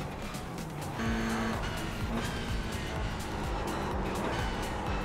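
A race car engine drones and tires roll steadily in the iRacing sim at Bathurst, a dense continuous roar with shifting pitch, close and loud throughout, while someone speaks over it.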